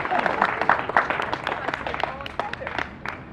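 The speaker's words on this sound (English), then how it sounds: "please a round of applause to Flora B." Audience applause at a 2016 time capsule opening in Oxnard's Heritage Square, with scattered hand claps over crowd murmur and voices, moderately loud and gradually thinning out.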